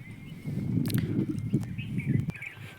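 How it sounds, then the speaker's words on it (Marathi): A bullock cart carrying farmyard manure rolls along a farm track, with a steady low rumble and an irregular clopping of hooves close by. "आता बैलगाडी घेऊन चाललो घरी"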